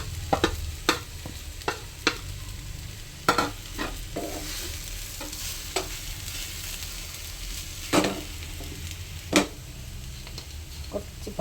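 Grated coconut and ripe banana being stirred and fried in a pan for kaya churuttu, with a steady sizzle underneath and a spatula scraping and tapping against the pan in sharp clicks.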